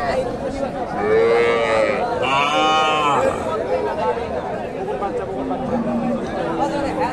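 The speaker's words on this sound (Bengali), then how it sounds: "এখানে একটা গাভী দেখেন, দেশি গাভী।" A native desi cow at the Dakumara cattle market, standing with a large crossbred heifer calf, lets out one long loud moo among crowd chatter and market hubbub.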